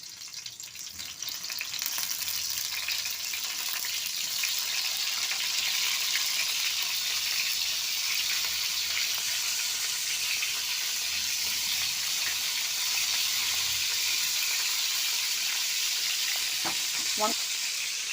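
Whole brinjals sizzle and crackle in plenty of oil in a large pan, a dense, steady frying hiss that fills the clip at close range, with a faint clink near the end.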